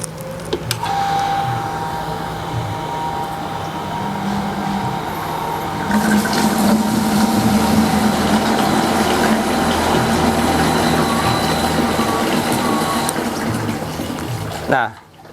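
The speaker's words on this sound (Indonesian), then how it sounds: "Ketika saya nyalakan, pompa ini dalam kondisi otomatis menyala ya." An automatic electric pump draws well water with a steady, loud whir and rushing water. The flow grows fuller partway through and then cuts off abruptly at the end, while someone speaks faintly underneath.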